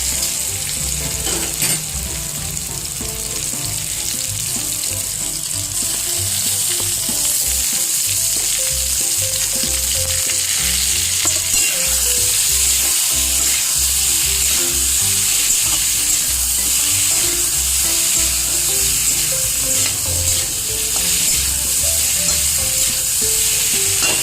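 Chopped tomatoes fry and get stirred in a pan for a homestyle fish curry with vegetables: a loud, steady sizzle with scraping stir strokes runs throughout, with no talking.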